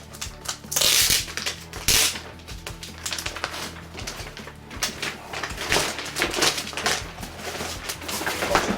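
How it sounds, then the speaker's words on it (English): A new arcade stick is unwrapped from its packaging nearby, with loud crinkling plastic and rustling cardboard in bursts, separated by softer handling and shuffling. "So I'll just unwrap it here."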